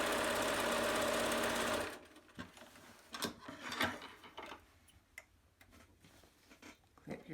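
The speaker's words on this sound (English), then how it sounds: "you can actually just bring this over and just sew the other side" Sewing machine stitching a fabric face mask, running loud and steady for about two seconds, then stopping, followed by quieter handling clicks and fabric rustles.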